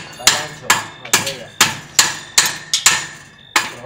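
A hammer strikes metal in an automotive workshop: about nine loud, close, ringing blows at a steady, slightly uneven pace, each with a short metallic decay.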